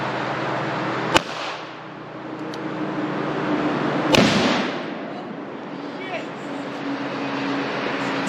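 Two sharp rifle shots crack out a few seconds apart at a Tannerite target on a tree stump outdoors. Each shot leaves a short echoing tail, and voices talk between them.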